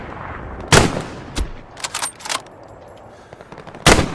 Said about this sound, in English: Here is someone with an MG.